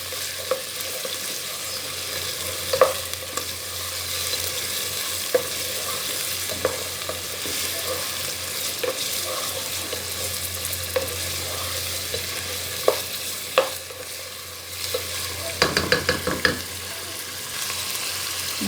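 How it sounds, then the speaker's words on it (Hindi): Mutton stirred in oil with ginger garlic paste for Pakistani chandi korma, a continuous loud sizzle broken by scraping stirs and a clatter of utensil strikes near the end. "2-3 मिनट इसको भूनना है अदरक लहसुन के साथ।"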